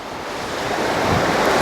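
Sea waves wash steadily onto the stony shore at Folkestone, a continuous loud surf roar that swells slightly, mixed with wind buffeting the microphone and no voices.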